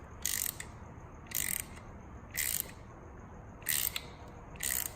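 A ratchet turns a 14 mm bolt on a 2015 Honda Grom during a chain and sprocket replacement, in five distinct bursts of rapid clicking, close and fairly crisp, separated by short pauses.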